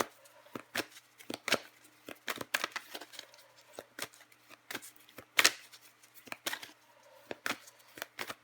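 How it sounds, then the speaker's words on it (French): Tarot cards are shuffled by hand close up in quick, irregular bursts of crisp riffles and snaps, with short pauses between handfuls and no talking. "Je vais encore tirer des cartes pour vous, les balances."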